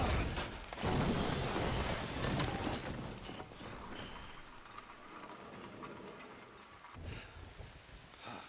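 Steady rain pours in the game Death Stranding, a dense hiss loudest at the start and easing slightly, with a faint rumble of thunder underneath and no voices.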